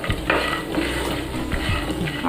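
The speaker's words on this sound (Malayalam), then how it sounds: "ഇത് പൊട്ടുകടല നമ്മൾ വറുത്തെടുത്തേക്കണ പൊട്ടുകടല കേട്ടോ" Split roasted gram (pottukadala) is stirred and roasted in a hot pan, with a steady scraping of a spoon against the metal and a soft sizzle beneath, close and continuous with no talk.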